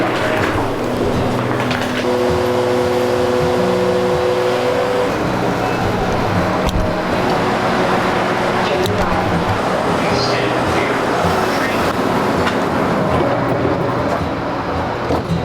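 A terminal shuttle train running at an airport amid continuous rumble of trains and traffic, loud and steady throughout, with a sustained tonal whine early on and people talking faintly underneath.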